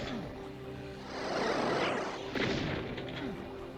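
A shotgun fired in a video game, a booming blast around the middle followed by a second sharp report, set against steady game background noise.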